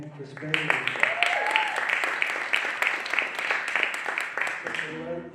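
Audience at a live music set breaks into applause for a performer, dense clapping filling the room for several seconds, with a voice speaking briefly at the start and end.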